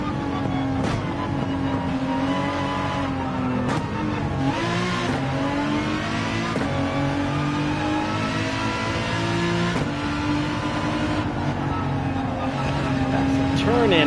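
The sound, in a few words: car engine at full throttle in Gran Turismo 7 video game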